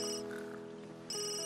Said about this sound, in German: Von wem klingelt das Handy?